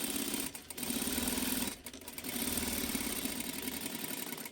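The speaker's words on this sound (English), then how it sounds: "I'm going to sew around with a generous 1/4-inch seam around all 4 sides" A sewing machine stitches a generous quarter-inch seam around all four sides of a scrappy quilt block, running in a steady, close, even whir with two brief pauses partway through.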